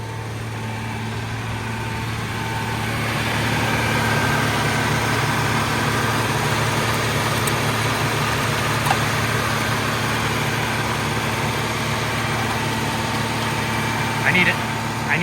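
A Ford Ranger truck engine idling steadily throughout, a constant low hum with a faint mechanical drone, fairly close and unbroken, with a brief clank near the end.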